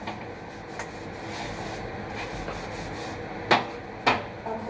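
A cloth wipes a surface during household cleaning, giving a steady soft rubbing hiss with a couple of sharper scuffs near the end.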